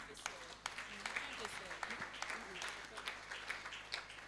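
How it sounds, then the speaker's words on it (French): A church congregation at a ministry service applauds, a steady patter of many hands clapping at moderate distance, with scattered sharper claps, brief cheers and voices mixed in. "acclamons très très fort."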